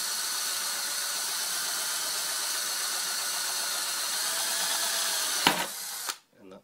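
Power drill cutting a pilot hole in stainless steel: a steady, loud whining grind runs for over five seconds, then shifts and winds down as the bit slows and stops.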